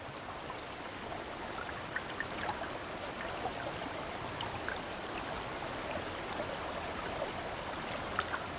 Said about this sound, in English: The rain has begun pelting the surface of the river.